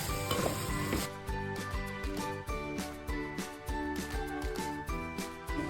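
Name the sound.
masala frying and sizzling in pan for prawn biryani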